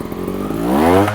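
A trials motorcycle engine revs hard while climbing a rock, its pitch rising quickly in one close, loud surge with no voices.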